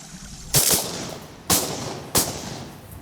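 Three sharp, loud shotgun blasts ring out about a second apart during a duck hunt, each with a short echoing tail against quiet outdoor background.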